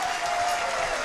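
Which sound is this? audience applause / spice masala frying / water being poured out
audience applause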